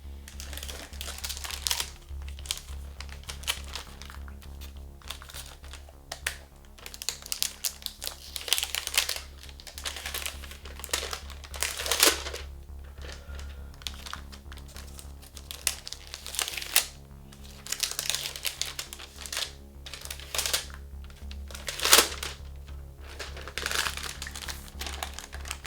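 Acer Predator Triton 14 gaming laptop slid out of crinkly plastic packaging, giving close, repeated rustling and crinkling bursts with sharper crackles, steady throughout and no talking.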